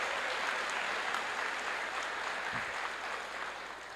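A crowd at a public event with the vice governor breaks into a sustained round of applause, dense steady clapping that fills the whole stretch and tapers slightly near the end.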